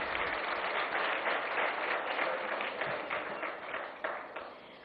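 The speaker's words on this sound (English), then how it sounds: "a big round of applause for Sadhguru Jaggi Vasudev." A conference audience applauds at a talk session, a dense, steady wash of clapping lasting about five seconds that slowly thins toward the end, heard at moderate distance.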